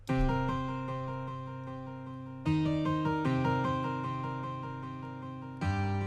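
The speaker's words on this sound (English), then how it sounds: "And it started out with a steel guitar" A plucked, twangy synth steel-guitar phrase plays alone, chords restruck about every few seconds and ringing out as a looping pattern, for a trap beat in Studio One 4.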